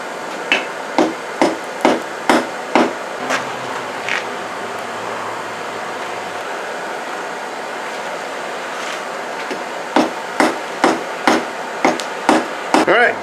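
Repeated hammer blows forge-welding a cable Damascus billet ring out loud and close, in two quick rhythmic bursts with a quiet pause between them.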